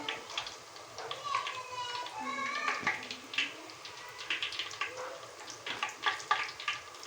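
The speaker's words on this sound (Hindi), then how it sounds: "अब हम डालते हैं इसे घी में। घी भी हमारा गर्म हो चुका है" Puri dough sizzles and bubbles in hot ghee in a small kadai, a close crackling frying hiss with brief splashes and stirring clinks, while someone talks over it.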